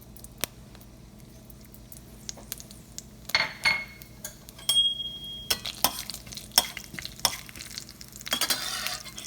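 Cumin seeds, along with mustard seeds, fry in oil for tempering with a faint sizzle, under sharp clinks and scrapes of a spoon against the pan.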